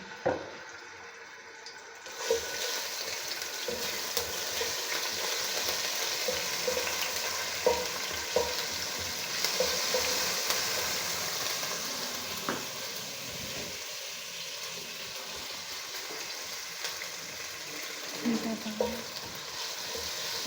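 Continuous close sizzling of ginger garlic paste frying in hot oil, with intermittent stirring scrapes, after a brief quiet start; no talking.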